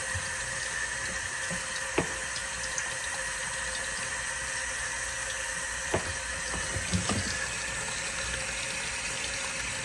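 Water runs steadily from a sink tap in a mechanic's workshop, a constant faint hiss with a few small clunks and splashes.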